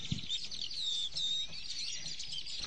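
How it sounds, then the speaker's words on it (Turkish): Birds sing continuously with high, rapid chirps and warbling trills, a lively chorus at moderate distance. "kuşların bahar şarkılarını dinlerim."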